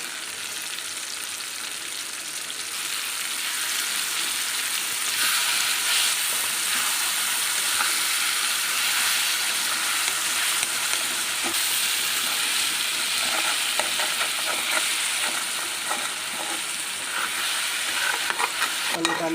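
Brinjal frying in oil for kuzhambu, a steady loud sizzle and hiss of hot oil that continues unbroken the whole time, with faint stirring underneath.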